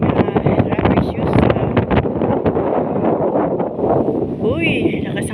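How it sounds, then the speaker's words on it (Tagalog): Strong wind buffets the microphone in heavy, rumbling gusts on a sandy beach while a person talks over it outdoors. "Uy, lakas ang hangin."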